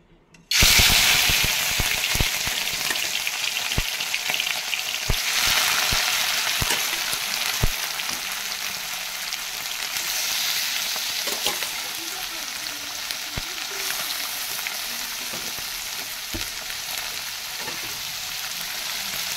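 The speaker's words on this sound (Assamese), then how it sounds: "এতিয়া মাছটো ভাজিবৰ কাৰণে কেৰাহীত তেল গৰম কৰি আছো" Local fish fry in hot oil in a kadai with a loud, steady sizzle that starts abruptly and keeps going throughout, broken by occasional sharp crackles and pops.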